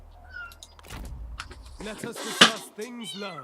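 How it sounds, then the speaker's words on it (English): A pet cat named Doris meows a few times close by, short rising-falling calls in the second half, mixed with a game voice talking and a sharp click. "That's just my cat."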